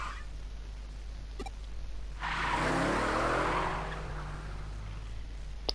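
In the Digimon Story Cyber Sleuth video game, a truck skids past with a loud screech and roar that swells for about two seconds and then fades.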